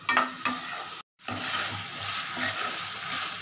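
Onion and tomato sautéing in a pan with ginger-garlic paste, a close sizzle broken by scraping stirs, a brief gap of silence, then steady frying; no talking.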